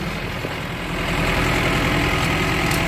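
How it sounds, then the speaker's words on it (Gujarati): A tractor engine idles nearby at a work site in the GIDC Navapara area of Vankaner, Gujarat, a steady low rumbling drone that holds constant and loud throughout with no talk over it. "આ બીજું ટ્રેક્ટર આવી ગયું છે અમારું"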